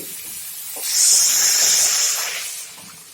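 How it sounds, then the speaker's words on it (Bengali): Water poured into a hot pot of rui fish curry with broccoli and potato sets off a sudden loud hiss and sizzle that swells for about a second and a half, then fades, with no voices. "দিয়ে দিচ্ছি জল"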